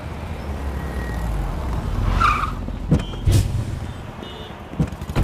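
A car brakes hard and skids toward a stop on a street, with a short tyre screech rising over steady traffic noise and a few sharp thumps following.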